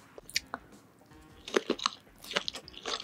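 Kielbasa sausage with cheese inside is bitten and chewed up close, with soft crunchy bites and wet squishy mastication in irregular bursts over a quiet background.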